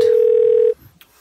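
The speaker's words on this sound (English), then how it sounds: "finally, Jesus is ringing" A single electronic telephone ring tone hums steadily for under a second, then cuts off, leaving near silence and a faint click.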